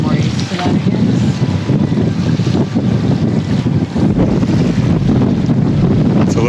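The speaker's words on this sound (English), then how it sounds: "It's a little gusty" Gusty wind roars across the microphone aboard a sailboat in Glacier Bay, loud and buffeting in uneven surges over faint water wash, with no clear speech.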